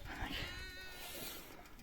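Sheep bleating faintly in the distance while being driven out to pasture on a foggy morning, with a thin wavering call over a low, noisy outdoor background.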